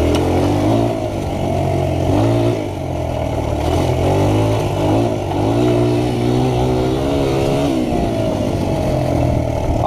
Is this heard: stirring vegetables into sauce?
no